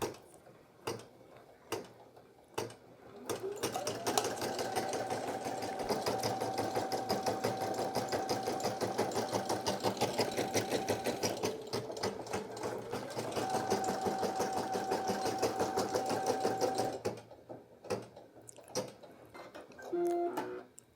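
A Brother PE800 embroidery machine stitches out a design, its rapid needle clatter running steadily for about thirteen seconds with a mid-run pitch shift, framed by quieter handling clicks before and after.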